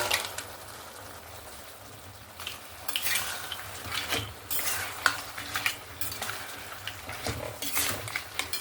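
Crabs get stirred into frying masala that has begun releasing oil in a pan, with a steady sizzle under repeated scraping and clinking of a spatula against metal, close and busy.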